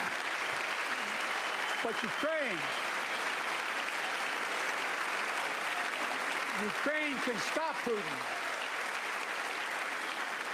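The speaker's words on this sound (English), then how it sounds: "Not used to applause." Audience applause at a political speech on Ukraine, a dense steady clapping that runs the whole time while a voice speaks over it.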